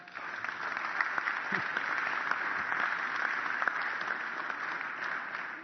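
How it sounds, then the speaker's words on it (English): An audience at a lake association annual meeting claps for a boat wash team member, a sustained, even round of many hands at moderate loudness, slightly muffled, continuing without pause. "let's give her a big round of applause"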